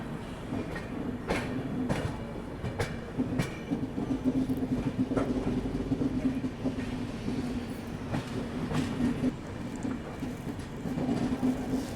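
Riding aboard the Ahmedabad Gorakhpur Express near Prayagraj, the train rumbles steadily along the rails with sharp, irregular clickety-clack beats over joints, heard from inside the moving coach.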